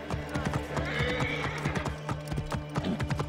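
Rapid hoofbeats clatter steadily throughout, with a horse's whinny rising in the middle over a busy background, in the video game Assassin's Creed Origins.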